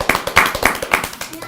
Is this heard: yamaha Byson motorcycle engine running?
no